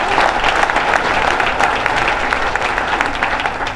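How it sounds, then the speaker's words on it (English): A crowd claps steadily at a baseball stadium ribbon-cutting ceremony, a dense, sustained round of applause without voices over it. "Give our Sod Poodle staff a nice round of applause."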